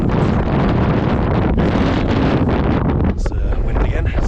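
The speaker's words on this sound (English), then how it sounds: "It's wind again." Strong wind gusting across a high mountain ridge on Mount Hotaka in Japan's Northern Alps, buffeting the microphone in a loud, continuous roar with a brief lull near the end.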